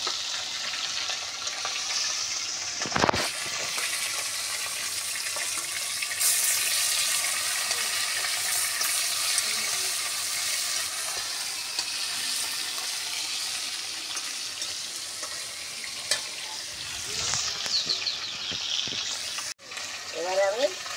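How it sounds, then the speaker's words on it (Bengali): Bhola fish (trout barb) fries in oil in a pan over a wood-fired stove, a steady close sizzle and crackle running throughout with occasional stirring clatter and brief knocks. "দেখো মাছটা, এবার আমি মাছটা ভাজা করছি।"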